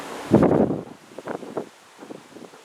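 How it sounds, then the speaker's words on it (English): Autumn wind gusts through the leaves of a large birch tree in a garden, giving short soft rustling bursts, louder at first and then fainter. "just the wind blowing in the big birch tree"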